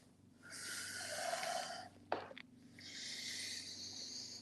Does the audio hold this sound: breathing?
yes